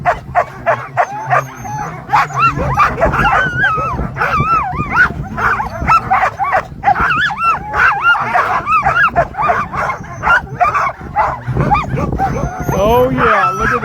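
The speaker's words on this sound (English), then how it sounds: "Beautiful looking dog team here." A sled dog team at the start of the Copper Basin 300 race barks, yips and whines excitedly and continuously, loud and close, while people talk over the commotion.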